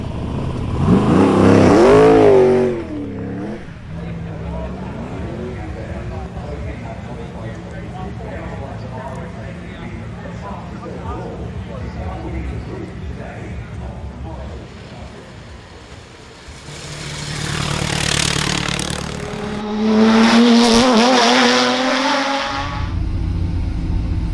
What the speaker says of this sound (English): you'll be seeing one of the older cars heading up the hill first